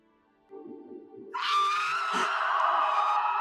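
After a moment of quieter low-pitched vocal sound, a person breaks into a loud, sustained, high-pitched scream in the manner of the Green Goblin from Spider-Man, held close and strong to the end.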